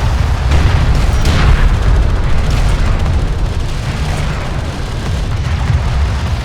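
A hostile strike craft blows up in Homeworld: Deserts of Kharak, a loud, deep booming explosion that rolls on as a sustained low rumble.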